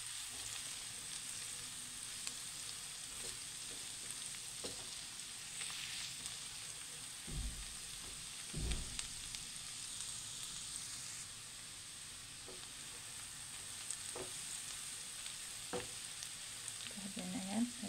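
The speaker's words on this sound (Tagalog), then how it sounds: "Hintayin natin hanggang medyo mag-brown ang bawang." Garlic fries in a pan with a steady, quiet sizzle that runs throughout, broken by a few soft knocks and stirring scrapes nearby.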